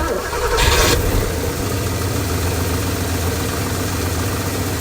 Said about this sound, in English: I'm going to start the car, and we'll listen to the engine